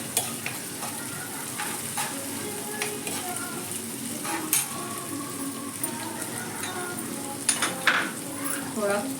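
Homemade ginger-garlic paste sizzles and fries in hot oil in a pan, with a spoon stirring and scraping steadily throughout and occasional louder clinks.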